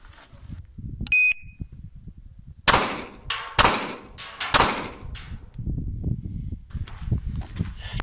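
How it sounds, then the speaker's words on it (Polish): Three sharp, loud pistol shots from an HS SF19 fired in quick succession at a shooting range, followed by scattered shuffling and handling noise, with a brief electronic beep just before. "Trzy strzały."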